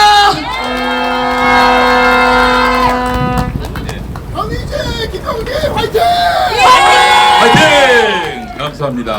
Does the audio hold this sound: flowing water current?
no